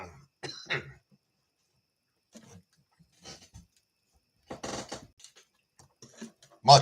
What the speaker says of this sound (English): You guys get to sit here and listen to me cough my lungs